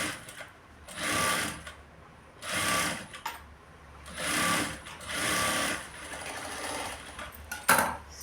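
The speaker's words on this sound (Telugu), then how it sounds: "సో దీని మీద నుంచి మళ్ళీ ఒక కుట్టు వేసేయండి." Sewing machine stitching the lining of a blouse, running in several loud whirring bursts of about a second each separated by brief pauses, close by with no talking.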